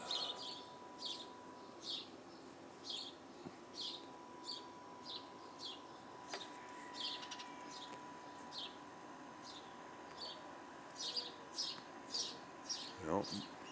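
Birds chirp outdoors in short, repeated bursts of high tweets spread across the clip. They sound faint and distant over a quiet background hum.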